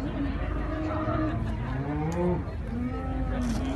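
Cattle mooing at an agricultural show parade of champions, several long, loud lowing calls overlapping in a noisy outdoor crowd, close and continuous.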